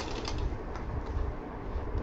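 A shiny bag being stitched on a sewing machine, a steady, rapid mechanical whirring and clatter, close and continuous, with no talking.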